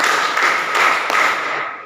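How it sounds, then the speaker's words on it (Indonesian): A group of people clap their hands together in a dense, continuous burst of close, loud claps, spread across the whole moment with no distinct separate beats standing out. "Tepuk tangan 4 kali."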